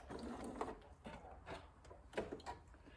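A sewing machine stitches through fabric layers of a zipper pouch, with short, rhythmic mechanical whirring bursts as it sews a few stitches forward and back-stitches. The sound is faint and close, with no voices.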